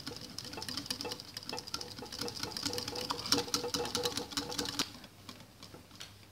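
An electric mixer whirs while mixing maida flour for egg paratha dough, a rapid mechanical chatter of fairly quiet pulses that runs steadily for several seconds and then cuts out, leaving near silence.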